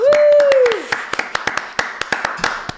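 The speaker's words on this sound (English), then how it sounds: "Round of applause." A studio round of applause during a live football gameday show, a handful of separate hand claps close to the microphone, irregular and sparse, following a brief whistled or sung tone at the start.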